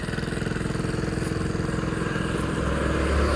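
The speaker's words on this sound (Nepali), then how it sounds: "यसरी नै हामी जान लागेको बाइकमा।" A motorcycle carrying riders along a rural road toward Kamlang, its engine a steady close, loud throbbing drone that thickens slightly near the end, with no talking.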